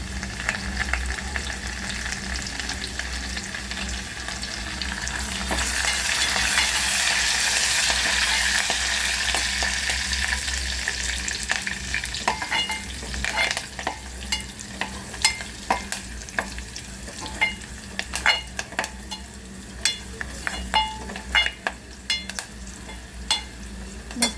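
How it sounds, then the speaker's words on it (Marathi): Garlic and curry leaves fry in hot oil for a traditional spicy amti, with a steady close sizzle that swells when the leaves go in, then settles into crackling with scattered sharp pops and stirring. "आता आपण कढीपत्ता टाकत आहोत"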